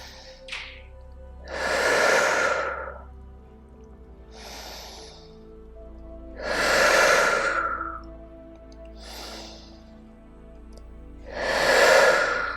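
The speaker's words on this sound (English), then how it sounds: "3 deep breaths." Deep breathing during yoga practice, three slow, loud, close breaths with softer inhales between them, evenly spaced over a faint low hum.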